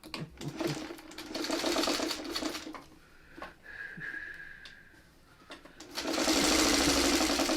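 Sewing machine running close by as it stitches the final seam of an Amish Star quilt block, a steady rapid whirring chatter in two stretches with a quieter gap and handling noises between.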